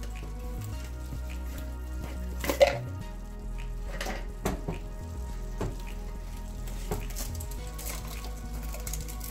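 Ghee spooned into a frying pan of mixed vegetable khichuri, with a soft steady sizzle under several sharp clinks of a utensil against the pan.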